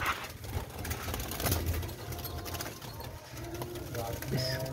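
A pair of white terry doves coos softly in a small dove setup, the low murmurs heard under someone talking, with faint background mechanical noise and other bird sounds nearby.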